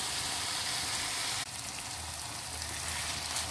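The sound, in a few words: masala being fried (bhuna) in a pan for fish karahi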